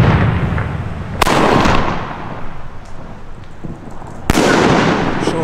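Mota King single-shot fireworks going off outdoors: two loud, sharp bursts several seconds apart, each followed by a crackling, rumbling tail over steady background noise.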